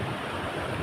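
Sea waves wash against the shore near a village coast, a steady broadband roar that is loud and close, mixed with wind noise.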